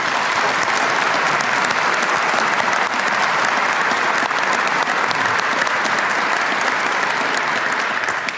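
Sustained, dense applause fills a large chamber as new legislators are welcomed at a state of the state address, loud and unbroken from start to finish with no voices rising above it.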